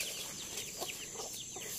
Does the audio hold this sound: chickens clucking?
yes